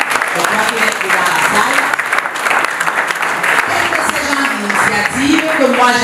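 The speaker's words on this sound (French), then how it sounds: "je vous invite encore à acclamer haut et fort" A seminar audience gives sustained, loud applause, with dense clapping and some crowd cheering continuing throughout, alongside a speaker's voice.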